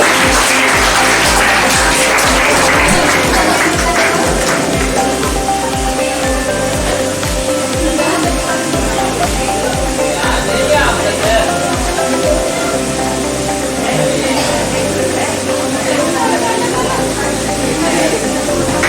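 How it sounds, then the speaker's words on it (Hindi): Loud applause at a student award function, a dense, sustained wash of clapping that continues for the whole stretch, mixed with background music and a voice speaking over it. "अरे इनके लिए जोरदार ताली दे दो।"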